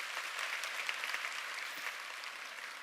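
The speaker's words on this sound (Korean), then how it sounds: "네, 박수 한번 주시죠." A seminar audience claps during a product presentation, giving dense, even applause at moderate volume for about three seconds with no talk.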